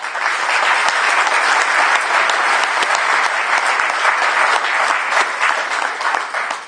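Sustained, dense applause from a large audience at a memorial speech honouring the Toulouse victims, loud and steady throughout with no talking over it.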